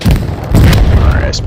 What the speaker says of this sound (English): Must have been a grenade.